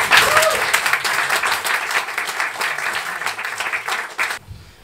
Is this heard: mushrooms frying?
no